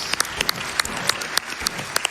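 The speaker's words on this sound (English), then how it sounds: "Let's clap for that." An audience at a live speedrunning event claps steadily, a dense patter of hands with a few sharper individual claps standing out, no voices on top.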